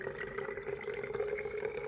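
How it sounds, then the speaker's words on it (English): Water is poured into a baby bottle, 8 ounces measured out for a Baby Brezza Instant Warmer, making a steady, close, continuous pouring and filling rush that holds evenly without pause. "let me fill this with 8 ounces of water"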